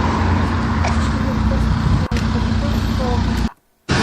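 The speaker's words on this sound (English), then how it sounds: "Also, again, cars, you can barely hear me through this whole thing." Steady, loud street traffic noise with cars rumbling past, heard outdoors with a brief cutout near the end.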